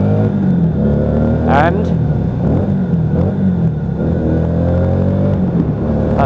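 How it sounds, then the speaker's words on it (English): A Lexmoto Vendetta 250 motorcycle revs under a bridge, its exhaust note rising and falling with a blip echoing off the structure, loud and close, with a brief spoken word. "What a glorious sound from that exhaust"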